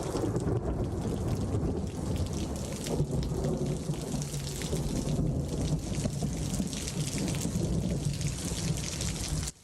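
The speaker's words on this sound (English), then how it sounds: "You could hear the rumbles, you can see the rain there." Steady heavy rain pours overnight in Poway, San Diego County, with deep thunder rumbling underneath and swelling at times; no voices.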